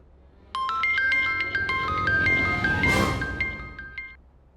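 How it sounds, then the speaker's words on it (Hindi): A mobile phone rings with an incoming call, a bright melodic ringtone of repeating tinkling notes starting suddenly and playing clearly over a quiet room, with a brief whoosh partway through. "तुम्हारे डायरेक्टर का फोन है।"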